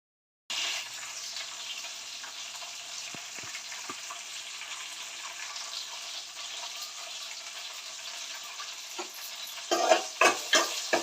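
Leafy greens fry in a pan with a steady, close sizzle that runs throughout, and a few louder bursts and clatters come near the end.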